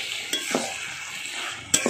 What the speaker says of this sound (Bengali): এটা আরও 2-3 মিনিট ধরে নাড়ব।